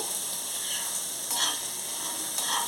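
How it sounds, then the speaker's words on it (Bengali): Dry red chillies and chopped garlic frying in hot oil give a steady, close sizzle with brief stirring bursts, and no one speaks. "তেলটা গরম হয়ে গেছে দিয়ে দিচ্ছি শুকনো লঙ্কা আর রসুন কুচি এটা একটু ভাজা ভাজা হবে"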